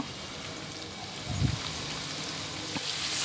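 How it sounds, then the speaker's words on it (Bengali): Potato pieces fry with salt and turmeric in a pan, giving a steady, even sizzle with a brief louder burst partway through. No one speaks. "লবণ ও হলুদ দিয়ে আমি আবার আলু কিছুক্ষণ ভেজে নেব।"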